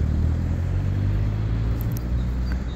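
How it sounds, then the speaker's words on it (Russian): Car traffic at the edge of Holosiivskyi Park in Kyiv makes a loud, continuous low rumble that masks any other outdoor sounds, with no speech. "но шум машин, конечно, заглушает это все"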